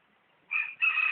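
A single short rooster crow rises out of silence, used as a guessing-game sound effect, with two quick rising segments at moderate volume.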